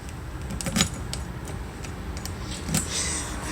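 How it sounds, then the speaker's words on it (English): Keys jangle and clink close by in intermittent bursts while a car is being locked up, with a couple of louder rattles among softer shuffling and no speech. "I always grab the wrong keys every time, just without fail."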